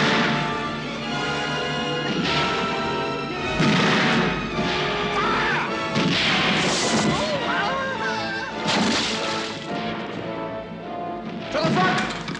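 Cannon artillery firing in a battle scene, with several heavy booming blasts and crashes spread across the stretch, loud and close, mixed with shouting voices and music.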